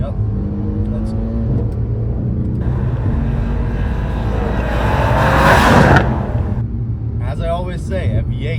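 A 2017 Mercedes-Benz C63 AMG twin-turbo V8 accelerating on a highway, a steady engine drone that swells into a louder, rising surge and then eases off.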